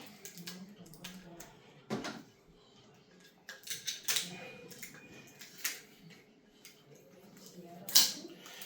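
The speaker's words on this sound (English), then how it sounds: "So here I have to open this. I take a knife. So you unwrap the plastic like this." Plastic wrap on a SodaStream Terra box is cut and peeled off with a knife, producing intermittent crinkling, rustling and scraping bursts at close range.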